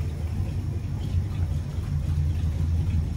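A carbureted 1968 Ford Galaxie 500 engine idling steadily after years of sitting, a low rumbling drone with no talking and no change in pace.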